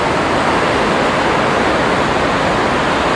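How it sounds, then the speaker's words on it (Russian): Alibek waterfall in the Dombay mountains roars as a loud, continuous, dense rush of falling water, heard up close with no voices. "Вот они и появились, водопады."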